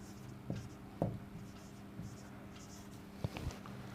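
Faint, scattered strokes and taps of writing a definition on a board during a matrix lesson, coming in short bursts over a low steady room hum.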